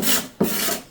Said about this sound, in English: And now I'm taking a razor sharp scraper and I'm just getting rid of the remnants of kerfing